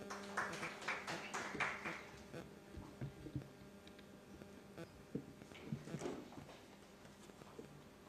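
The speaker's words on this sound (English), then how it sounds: "Let's give her a round of applause." An audience in a meeting hall applauds a Member of Parliament, giving soft, scattered claps that are strongest at the start and then fade into sparse, faint patters.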